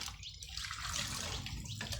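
Water pours steadily from a jug in a continuous, close splashing stream with no talk, flowing throughout.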